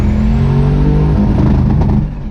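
A turbocharged Cadillac Escalade with a Stage 3 BTR cam swap runs a loud, close, droning engine note that eases off slightly near the end.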